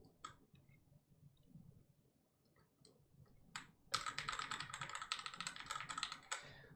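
Fast, dense clicking of keys on a SingaKBD Jaguar mechanical keyboard fitted with high-pitched keycaps, the hollow-sounding case giving bright clacks; sparse scattered taps at first, then a burst of rapid continuous typing, close and clear.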